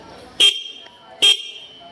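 Two short, sharp toots from a motorcycle's twin-disc horn close by, evenly spaced under a second apart, each a bright piercing beep against quiet background.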